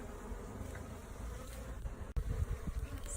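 Honey bees buzz steadily around spilled honey near the hive, a close, continuous hum with a brief bump partway through.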